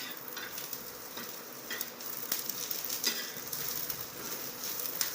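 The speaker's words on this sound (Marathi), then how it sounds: "आता याच्यामध्ये मी खडा मसाला टाकून घेते ते पण परतून घेते" Whole spices fry in a pan for a spicy kat vada curry, giving a steady, close sizzle dotted with small crackles and faint stirring scrapes throughout.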